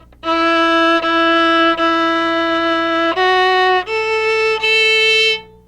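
A solo violin bowing a slow two-measure beginner phrase, several sustained notes played one after another with brief breaks between bow strokes, near and clear with no voices.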